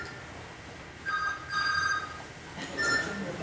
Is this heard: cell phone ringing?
yes